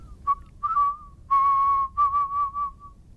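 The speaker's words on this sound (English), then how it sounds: "I am a whistler, a musical whistler." A person whistles musically, producing clear, pure-toned notes in short separated phrases, close and fairly loud, with some notes held and gently wavering.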